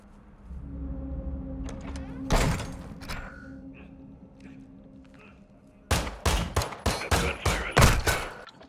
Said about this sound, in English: Of course the gunfire is gonna alert them